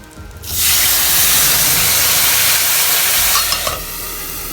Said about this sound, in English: Now we are going to add water to this.